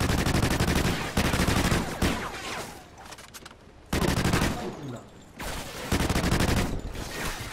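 Heavy gunfire in the video game Call of Duty Ghosts, long loud bursts of rapid automatic fire broken by short pauses, with faint voices between volleys.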